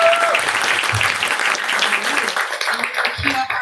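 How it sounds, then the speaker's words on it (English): Audience applause after a congratulatory moment at a live-streamed event, a steady patter of clapping with some voices and brief tonal sounds underneath, ending as a film cue begins. "Let's give a round of applause."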